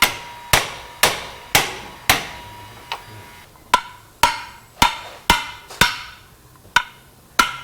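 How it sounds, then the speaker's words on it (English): Sharp metallic hammer blows strike a frozen wheel bearing flange again and again to knock it free, a dozen or so evenly paced ringing taps close by, with a brief pause partway through and no talking. "you can get your hammer and just tap this right off"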